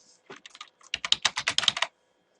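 Quick bursts of typing on a computer keyboard, a dozen or so crisp close keystrokes in an uneven rhythm, clear and alone in a quiet room.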